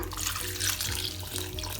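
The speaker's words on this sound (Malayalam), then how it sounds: "ഇനി നമുക്കിതിലേക്ക് കറിക്ക് ആവശ്യമായ വെള്ളം ചേർക്കാം" Water poured into a pot of raw mango and jackfruit seed curry: a brief, steady splashing pour lasting about two seconds.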